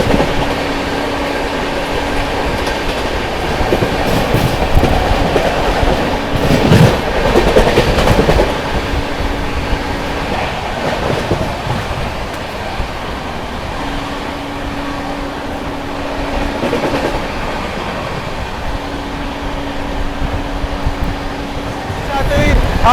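A superfast express train runs past on Indian Railways track, with steady loud rumble and rhythmic wheel clatter throughout, horn-like tones rising at intervals, and voices talking faintly over the noise.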